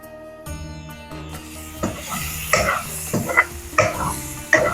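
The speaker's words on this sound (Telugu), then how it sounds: "మంచిగా ఫ్రై అయింది టమాటా" Tomato, onion and dried red chillies fry in a pan while a spoon stirs them, making repeated scraping strokes over a low background hum and a faint sizzle, heard up close.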